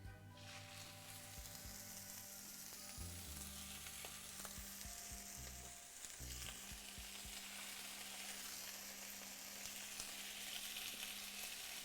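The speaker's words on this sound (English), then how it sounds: "I think it's time for sizzling action" Chicken and seafood paella sizzles and fries steadily in a deep pan, a continuous close crackle with occasional clinks and stirring scrapes, no talk.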